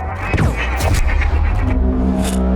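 Loud bursts of gunfire crack and boom through a dense, noisy background, with several sharp reports in quick succession.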